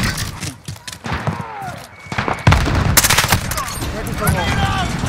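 Rapid automatic gunfire bursts and single shots ring out in a Call of Duty multiplayer match, loud and close, mixed with in-game voice callouts and player chatter.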